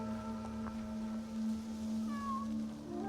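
A cat in Assassin's Creed Shadows gives a couple of close, clear meows over a low steady hum of game ambience, with no talking.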